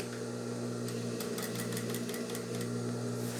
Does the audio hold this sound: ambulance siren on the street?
no